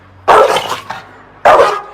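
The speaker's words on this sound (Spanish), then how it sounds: "Muy abajo podían oír al perro ladrando." A dog barks twice from below, two loud, sharp bursts separated by a pause of about a second, with no voices.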